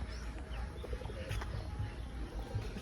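Pigeons coo softly in a zoo's peacock cage in Savar, a low, faint murmur of calls repeating under a steady outdoor background hum.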